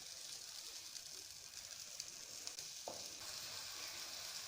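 Matar gosht, mutton with peas, frying in oil in a pan: a faint, even sizzle running throughout, with one short soft knock near the middle and no voices.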